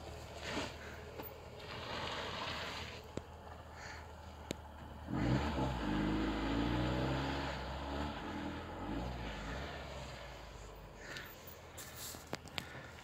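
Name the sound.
Tofaş Serçe car driving up rough off-road track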